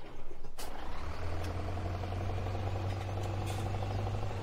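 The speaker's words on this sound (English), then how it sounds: "That's a Scania. Oh. Do they really sound like that? Sound like an old washer machine." A Scania truck engine in Farming Simulator 17 drones steadily with a low, rattly idle hum throughout, loud and continuous, with a faint high tick or two over it.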